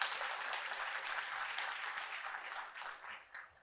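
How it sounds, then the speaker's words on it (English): An audience at a university talk applauds in a steady, moderately soft wash of claps that tapers slightly at the end. "I just want to give you a round of applause"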